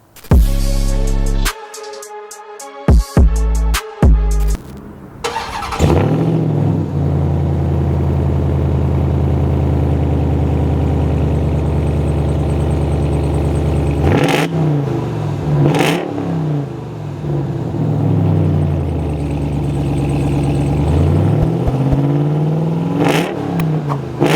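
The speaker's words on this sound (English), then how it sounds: "I think it's time we start this bad boy up. Maybe you guys can take a listen to the exhaust" A 2022 Ram TRX Ignition Edition pickup cranks and fires up, its supercharged engine roaring into a loud rev before settling into a deep, throbbing idle, punctuated by two more sharp throttle blips, close and dominant throughout.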